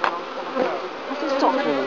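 Bees buzz close and steadily around an open beehive during an inspection, a dense insect drone with no speech.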